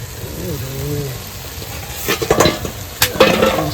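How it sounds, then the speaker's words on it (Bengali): Koi fish cooking with taro leaves in a wok give off a steady sizzle, briefly under a voice at the start, then clattering stirring scrapes in two close bursts. "কই মাছ দিয়ে কড়াইতে বসিয়ে দিয়েছি কচু পাতা দিয়ে"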